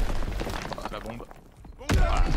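A bomb blast in the World War II shooter Call of Duty: WWII lands as one sudden heavy thud near the end, after a stretch of busy game noise and clatter.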